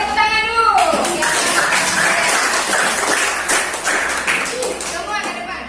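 Students in a classroom clap for a presenting group, a dense burst of applause running several seconds before thinning out, with a teacher's voice speaking over the start and end.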